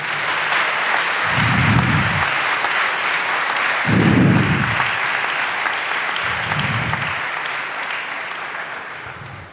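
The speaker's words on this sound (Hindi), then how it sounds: "आओ उसके लिए जोरदार तालियां।" A congregation at a Hindi-Urdu church sermon claps steadily in loud, sustained applause, with low thumping swells rising underneath the dense patter of hands.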